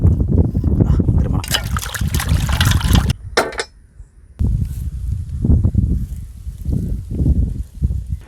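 Guinea fowl meat is washed in water by hand. Splashing and sloshing come close and loud, with a brief pause, then softer intermittent swishes and dribbles.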